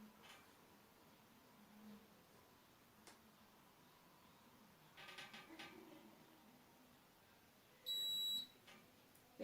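Faint electronic ready beeps from a Tefal SV8020 steam generator iron, a short burst of tones near the end, in a quiet room with a few soft clicks.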